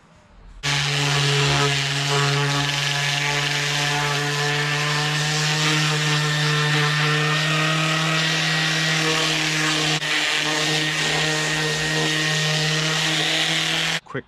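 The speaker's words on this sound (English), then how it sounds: "I kind of want to just rough sand it" An orbital sander rough-sands carving cut-off wood for signs, running with a loud, continuous, steady whine and hum for about thirteen seconds before switching off.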